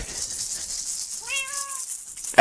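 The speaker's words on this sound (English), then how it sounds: "It was a cat." A cat meows once outside, a single rising-then-falling drawn-out cry heard at a distance over steady background hiss, ending with a sharp knock.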